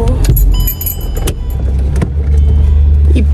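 Steady car engine and road rumble heard from inside the moving vehicle on a rainy day, with brief clicks and rattles over the continuous low drone.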